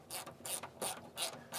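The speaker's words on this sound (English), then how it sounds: "you need somebody to stop the bolt turning from above while I do the nut up from underneath" A hand ratchet clicks in four or five quick, evenly spaced bursts while a nut is tightened onto a bolt underneath a van during fitting of a Fiamma F80s awning bracket. The clicking is close and clear with no talk.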